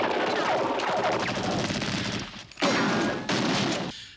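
Sustained machine gun fire and a fusillade of gunshots in the explosive finale of a western-style action film, loud and dense, with brief gaps and renewed bursts.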